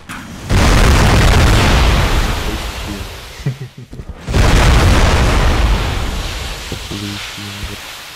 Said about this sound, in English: I'm seeing the explosion from our side of the base.